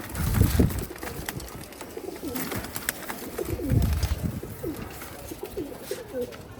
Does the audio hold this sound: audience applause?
no